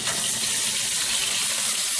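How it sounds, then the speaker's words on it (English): Meat frying in olive oil in a frying pan, a loud, steady, close sizzle with no talking. "So I'm putting them on a frying pan, and I'm gonna brown them."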